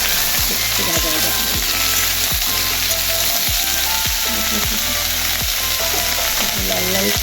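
Okra, potato and eggplant fry in a pan, giving a loud, steady sizzle throughout, broken by repeated rhythmic scraping thumps of stirring in the same pan.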